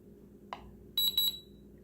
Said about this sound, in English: you'll hear beeping periodically as you do this, and the timer is running